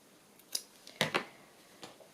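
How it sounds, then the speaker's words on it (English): Scissors snipping ribbon in a quiet room, a handful of short, sharp cuts spaced unevenly, with a quick pair of snips in the middle and fainter clicks around them. "A bit too much ribbon here. Let's just trim that a little."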